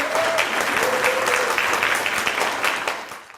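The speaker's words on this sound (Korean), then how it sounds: "박수 부탁드립니다" Audience applause at a youth council ceremony in Chuncheon, a steady, full round of clapping from a hall crowd with a few distinct hand claps standing out, fading slightly at the end.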